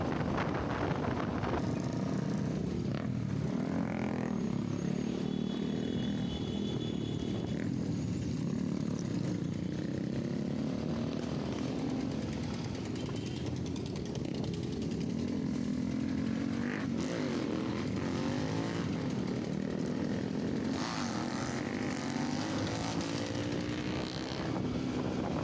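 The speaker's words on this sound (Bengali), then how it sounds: "গাড়ির সাউন্ডগুলো চেক করো শুধু ভাই" A motorcycle engine revving at an Independence Day gathering outside a roadside dhaba, a continuous rough drone that rises and falls over about 25 seconds, with wind buffeting the microphone and no voices.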